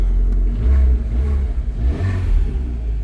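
A Fiat 500 Abarth engine revs close by, a deep throaty rumble that swells and eases with the throttle and carries a light mechanical whir and clatter, with no talking.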